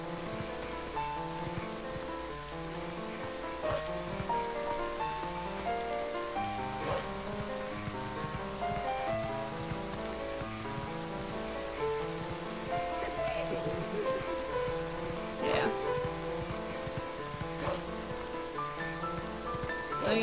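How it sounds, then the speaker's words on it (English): Steady rain pours down in Zelda Twilight Princess, a dense continuous hiss under looping game music, with no speech over it. "It's really coming down at this rate."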